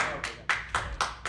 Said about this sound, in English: please clap when I'm done reading it